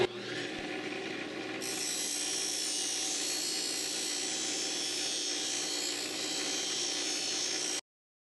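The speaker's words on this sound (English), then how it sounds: "this is another technique using a Scotch-Brite wheel" A Scotch-Brite wheel polishes the cut edges of aluminum parts for an Affordaplane aircraft build, a steady close abrasive whir and rub that holds level for several seconds before cutting off abruptly.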